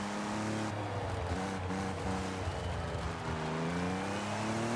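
An Audi Quattro engine in the racing game Forza Horizon 5 drones steadily at low RPM, with a rising, shifting harmonic pitch as the car pulls away; no speech.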